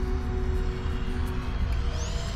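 A Firebird radio-controlled plane from Dancing Wings drones in on a calm day as it comes in to land, its steady propeller and motor whine held at a distance, with a faint rising whistle near the end.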